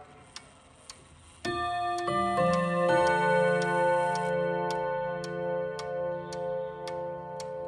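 An Odo antique French clock ticks steadily, then its chime strikes a sustained ringing tone that layers into long, resonant overtones and slowly decays while the regular ticking continues.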